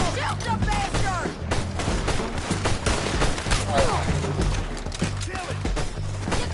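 Rapid, chaotic gunfire in the Western game Red Dead Redemption 2, with many close shots and shouting voices mixed in throughout.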